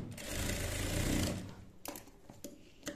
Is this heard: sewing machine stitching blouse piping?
yes